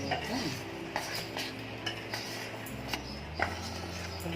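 A spoon stirs corn kernels mixed with cornflour in a bowl, clinking against the sides in a steady rhythm of light scrapes and taps, close and moderately loud with faint background tones.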